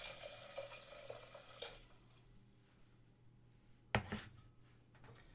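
Water is poured into a cooking pot while making elderberry syrup, a faint trickle and splash early on, then a sharp clunk around the middle and a few quiet drips and knocks in a still kitchen.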